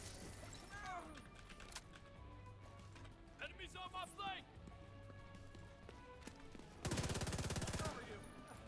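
Gunfire in Division 2 on PC: a dense, loud burst of rapid shots near the end, with scattered game sounds and a talking voice earlier.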